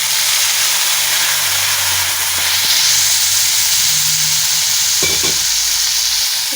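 Ground spices mixed with water into a paste, including cumin, chili, turmeric and Kashmiri chili, tip into a hot pan for a vegetarian dhoka curry and sizzle loudly and steadily, with a few stirring scrapes near the middle.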